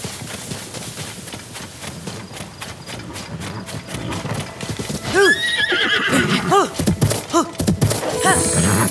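In a video game, Zelda: Tears of the Kingdom, hooves clip-clop in a steady rhythm, then a horse whinnies loudly several times with rising and falling cries amid more hoof clatter.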